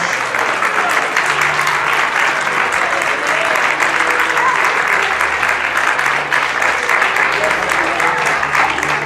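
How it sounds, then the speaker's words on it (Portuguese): A church congregation claps and cheers loudly and continuously during an evening worship service, a dense crowd roar with faint voices and a low hum underneath throughout. "Quem pode pegar duas mãos aí e aplaudir e dizer: só o Senhor é Deus nesta noite?"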